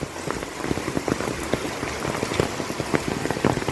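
Steady rain pours at a Shiva temple, a dense continuous patter of drops splashing on surfaces close by, with no voices.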